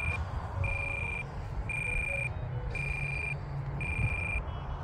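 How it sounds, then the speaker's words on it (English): A low-battery alarm on an RC plane transmitter for an E-flite UMX P-51 Detroit Miss beeps in regular repeating tones, about one per second, over faint outdoor background noise. "And my battery alarm's going"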